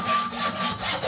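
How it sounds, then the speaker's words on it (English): Sandpaper is rubbed on wood in steady back-and-forth strokes, making a loud, close, continuous rasping with about three swells of friction. "by friction between two subjects, like when you use the sandpaper with a wood."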